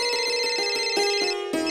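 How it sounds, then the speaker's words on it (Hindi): A phone ringtone of rapid, repeating plucked electronic notes plays loudly and close up in a Bhojpuri web series scene, with no talking over it. "किसका फोन है भैया?"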